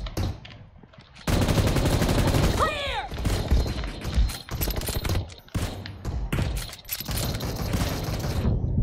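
Battle royale game gunfire crackles in sharp bursts and sustained automatic volleys, loud and close, with mechanical clicks and a whooshing effect in between. Players talk excitedly over the shooting.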